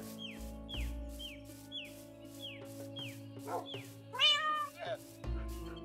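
Cats meowing in the video game Minecraft, a string of short descending meows repeating roughly every half second, with a longer, louder meow near the end over a steady background hum.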